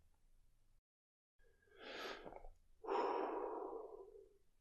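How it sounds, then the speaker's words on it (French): Slow breathing exercise: a soft nasal inhale followed by a longer, fuller breath, close and quiet against near silence, with a short pause before the first breath. "J'inspire par le nez."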